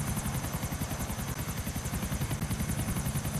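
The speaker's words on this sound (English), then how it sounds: "Muffin, you can't get me with that helicopter" Helicopter in the Grand Theft Auto video game, a steady rapid rotor chop with a whining engine tone, fairly close and continuous, heard alone.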